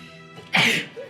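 A single close, sharp sneeze from a person in attic dust, a short inhaled lead-in followed by an explosive burst and a brief tail.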